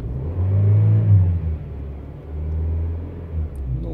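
A car engine revs up and settles back during OBD2 diagnostics, two rising swells of close, loud rumble with no talking.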